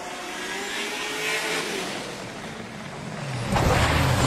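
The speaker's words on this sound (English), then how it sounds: "Just listen to that V8," A V8 drift car's engine during a drift battle, a sustained roar heard from a distance that swells into a louder, closer rev toward the end.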